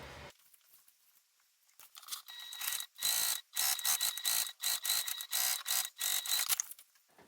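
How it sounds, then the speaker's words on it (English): A sewing machine stitches together the striped exterior fabric pieces of a large tote bag, its motor whirring in repeated bursts of roughly half a second with brief pauses between runs, close and moderately loud. "let's go ahead and start sewing the exteriors together"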